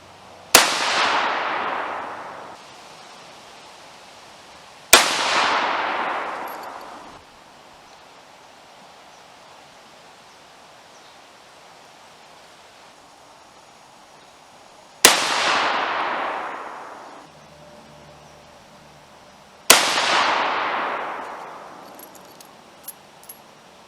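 Four sharp rifle shots from a custom AR-15 firing Hornady loads with a brass catcher attached, spaced several seconds apart, each a loud crack followed by a decaying outdoor echo, with quiet between.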